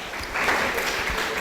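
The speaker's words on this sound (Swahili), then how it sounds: "Piga makofi mwalimu wetu." Students in a secondary school classroom clap for their teacher, a short burst of hand claps rising after a quiet start and carrying on briefly.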